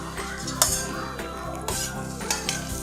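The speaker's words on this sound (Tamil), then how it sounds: "இப்போ கொஞ்சம் நெய் போட்டு தேங்காவை நெய்யில் வறுத்து வச்சுக்கணும்." Grated coconut fried in ghee in a pan while a spoon stirs it: steady sizzling with several metallic clinks and scrapes of the utensil against the pan, close and fairly loud, no talking.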